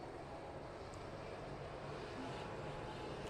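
An Air Canada Rouge Airbus A319 airliner at Toronto Pearson airport gives off a faint, distant, steady jet roar, a broad continuous rumble with no clear rise or fall.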